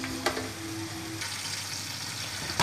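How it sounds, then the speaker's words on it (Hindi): Chopped onions browning in a home kitchen pan, a steady close sizzle with brief clinks of stirring near the start and end. "चलिए जी प्याज को ब्राउन करते हैं।"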